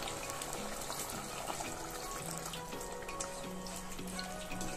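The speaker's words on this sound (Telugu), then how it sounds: "అలా ఉడుకుతున్నప్పుడు వాటర్ పోసుకుందాము." Water pours steadily into half-boiled chicken in a pressure cooker, a continuous splashing, running-liquid sound heard close with no talking.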